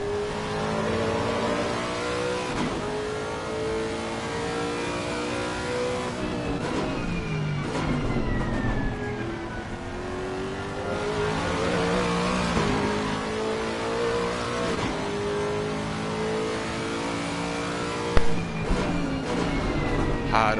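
GT3 race car engines at Mount Panorama in a racing game, including a Mercedes: steady high engine drone with rising and falling revs as cars accelerate and pass, under a commentator's continuous talk.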